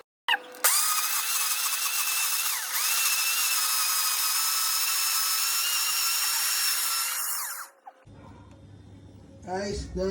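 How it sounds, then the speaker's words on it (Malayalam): A kitchen blender whirs at high speed for about seven seconds, blending dates with syrup for a homemade date milkshake. The motor is loud, steady and close, then cuts off, followed by brief faint handling and voice sounds. "ഞാൻ വീണ്ടും ബ്ലെൻഡ് ചെയ്യാൻ പോകുന്നത്."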